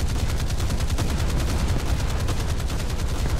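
Rapid gunfire and blasts from a Fletcher destroyer battle in War Thunder, a dense, loud, continuous barrage of rhythmic shots with no voices over it.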